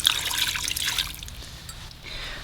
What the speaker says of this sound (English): we're gonna add in 1 cup of water